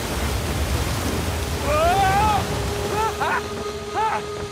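Rushing waterfall water in the Uncharted video game, a steady broadband roar of falling water filling the scene while shouted voices and brief tonal calls break over it.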